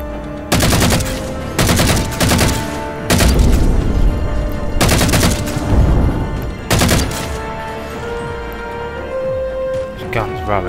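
Loud gunfire from a weapon in Halo 4 on Xbox 360, heard as five separate heavy bursts roughly a second apart, then a quieter tail with lighter clatter.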